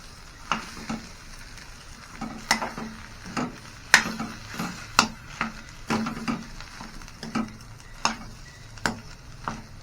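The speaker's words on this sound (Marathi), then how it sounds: "हे बटाटे असे कुस करून टाकायचे मस्त मिक्स करून घ्यायचे एकदम" Mashed potato filling for vada pav being stirred in a pan: a series of sharp, rhythmic scrapes and knocks of a spoon against the metal, roughly one every second, over a faint background sizzle.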